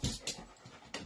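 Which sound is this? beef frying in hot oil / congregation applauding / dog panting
dog panting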